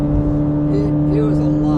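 A stock Chevrolet Corvette C8 Z06 engine runs with a steady, droning exhaust note, while people talk over it.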